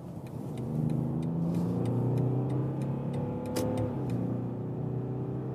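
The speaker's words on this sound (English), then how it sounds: "that was 70 to 120 kilometers an hour acceleration" BMW 7 Series of the new generation in sport mode accelerating from 70 to 120 km/h, a smooth, steady engine tone rising in pitch through the gears, heard from inside the cabin and sustained throughout.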